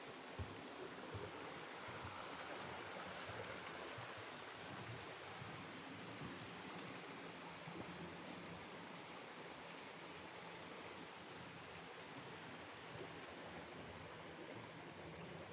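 Water rushing steadily at a small watermill at Leonards Mills in Bradley, Maine, a broad, even hiss that stays close and continuous without pause or voices.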